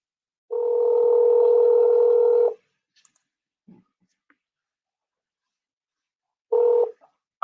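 A telephone call being placed, with a steady tone lasting about two seconds, then a few faint clicks and a brief return of the tone at the end.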